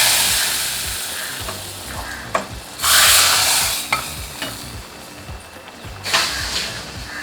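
Hot tempering is poured into a vegetable kootu in a home kitchen, giving bursts of sizzling and frying crackle with a few louder hissing surges and light stirring scrapes, close and steady with no talk.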